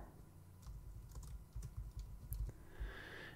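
Typing on a poor-quality computer keyboard, a run of soft, uneven key taps close by, with a few louder strikes in the middle of the run, heard alone without talk.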